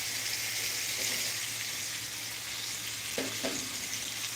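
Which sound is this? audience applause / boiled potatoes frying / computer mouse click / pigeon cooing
boiled potatoes frying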